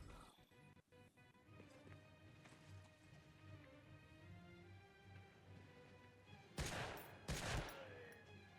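Two loud bursts of rapid gunfire erupt near the end of a World War II shooter level set in a seaside port in Medal of Honor: Frontline, over a low, steady wash of ambient game noise.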